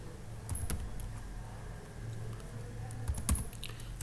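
Java code being typed on a computer keyboard, scattered key clicks in short bursts with a couple of sharper clacks, close and quiet over a low background hum.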